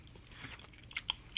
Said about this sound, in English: we're back to munching